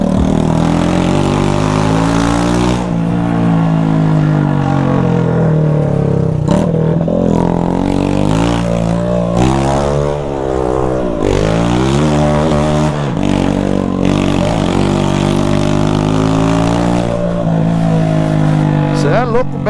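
A Honda Titan 160 motorcycle fitted with a stainless steel exhaust pipe revs repeatedly, its harmonic engine note climbing and falling in loud bursts, close to the listener, with voices talking over it.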